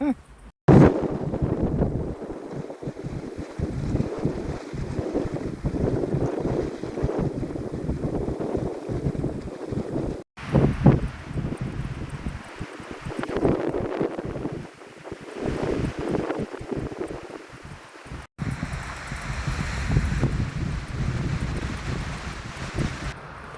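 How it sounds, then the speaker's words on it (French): Strong windstorm battering a tent on a coastal cycling trip in Croatia, a continuous loud roar of gusting wind with flapping fabric, surging and easing in waves over about twenty seconds. "La tempête de vent, ça s'arrête pas."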